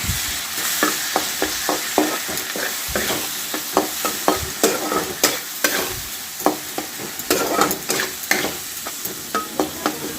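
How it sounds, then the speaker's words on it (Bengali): Ginger-garlic paste and coriander powder sizzling in a pan for a rui fish curry, with a spatula scraping and stirring in a steady, close rhythm of soft knocks over a continuous frying hiss. "এবারে আমি এটাকে ভালো করে কষে নেব।"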